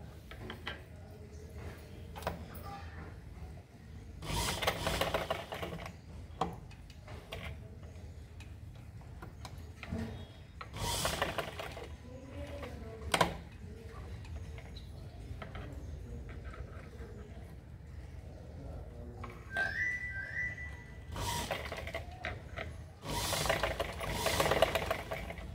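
Sewing machine stitching the front part of a blouse, quiet rapid ticking stitches in several bursts with bright rasping swishes of fabric being moved between them, fairly close and faint overall.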